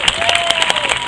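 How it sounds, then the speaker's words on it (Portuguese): Audience applause at a municipal ceremony following a musical performance: a short burst of dense, steady hand-clapping from a crowd, fairly loud and close, with no talk over it. "Mais uma salva de palmas, por favor."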